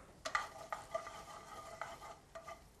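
Dried red chillies roasting in a pan of oil, with a few stirring scrapes and light clinks over a soft, steady background sizzle, close by and fairly quiet.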